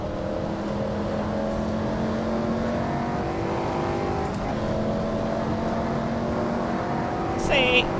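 Formula Ford race car in a racing simulator game, a steady droning engine note that holds and shifts pitch, with a brief higher whine near the end, under ongoing talk.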